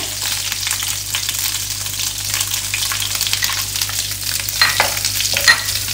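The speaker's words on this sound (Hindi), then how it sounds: "अब हम इसमें अदरक लहसुन के पेस्ट को हल्का सा सौते करेंगे" Ginger garlic paste and onions sizzle steadily in hot oil, with occasional scraping stirs close by and no voices.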